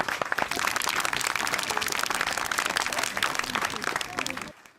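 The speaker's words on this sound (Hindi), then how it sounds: "तालियां" A crowd at a tree-planting gathering applauds a local leader, dense loud clapping from many hands that holds strong throughout and then cuts off abruptly at the end.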